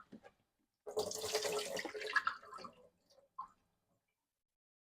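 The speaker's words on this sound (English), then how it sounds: "So I'm just going to rinse it." An aloe leaf is rinsed under a running tap, giving a short burst of splashing water for about two seconds, followed by a few faint drips and quiet handling.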